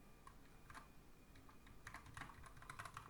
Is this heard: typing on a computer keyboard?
yes